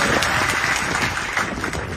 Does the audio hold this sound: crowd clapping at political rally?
yes